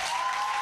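Brief burst of dense crowd applause at a prophet's public church gathering, steady and fairly loud throughout with a faint sustained tone beneath it.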